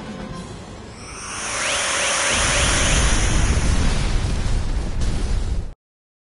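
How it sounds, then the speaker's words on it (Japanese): A building explodes in the video game Star Ocean 5, a loud roaring blast that swells over a couple of seconds into a sustained rumbling wall of noise before cutting off abruptly, with no talk. "今すぐこちらの5人を転送しろ。 建物が爆発する。"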